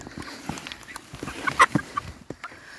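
Backyard hens and young chicks reacting to the first snow, with scattered soft clucks and a couple of sharper calls over quiet ambient rustling, fairly close and without talk.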